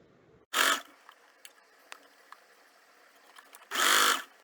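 A sewing machine fitted with a zipper foot stitches right along the cord edge of a cushion cover, in two short, close bursts separated by a few seconds of quiet with faint clicks of handling.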